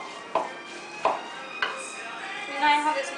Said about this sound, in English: going to chop up this basil here, and the stems off